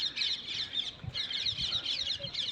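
Many birds call outdoors among dense trees, a continuous overlapping chorus of high chirps and twitters with faint low thumps underneath.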